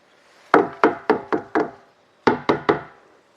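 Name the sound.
banging on tins at night to scare off snakes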